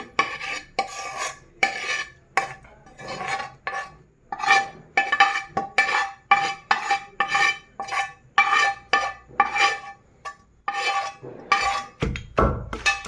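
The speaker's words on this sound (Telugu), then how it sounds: "ఇలా బాగా మిక్స్ చేసుకొని దంచుకోవాలి ఇలా బాగా బాగా రౌండ్ రౌండ్గా మెత్తగా దంచుకోవాలి" Green chillies, rock salt, tomato and onion pounded in a stone mortar for a roti chutney, a close series of sharp stone-on-stone thuds and grinding scrapes in a steady rhythm, about one per half second, without talk.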